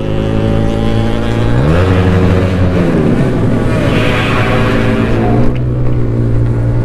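A Yamaha RX King two-stroke motorcycle engine revs hard toward its limit, holding a steady buzzing drone that climbs in pitch, then drops back to idle and picks up again, close and loud throughout.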